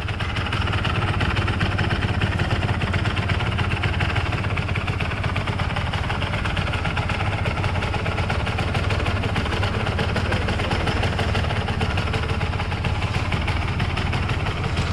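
A Yamaha DT 200 motorcycle engine idles steadily and evenly with a low, continuous rumble throughout, close by and fairly loud, with no talking.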